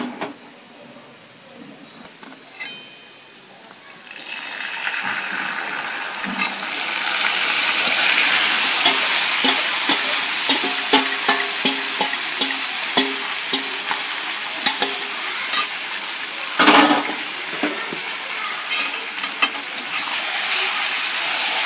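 Chicken pieces tipped into a pan of browned onions for a Bengali chicken curry hiss and sizzle loudly as they fry, the sizzle swelling after a few seconds and continuing steadily with stirring clatter and no talk.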